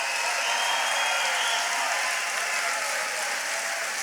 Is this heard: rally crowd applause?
yes